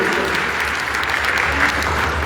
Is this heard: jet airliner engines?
no